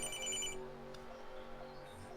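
A telephone rings during a sim racing stream at a superspeedway track, a faint electronic ringtone with a short burst of tones at the start and a quieter one near the end over a low background murmur.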